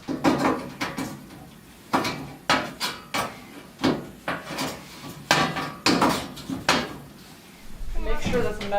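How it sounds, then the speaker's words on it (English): A hammer twisting and prying seatback sheet metal, a steady run of sharp metallic clanks and knocks about every half second, close and loud, with someone speaking briefly at the end. "So by getting a hammer in there and kind of twisting,"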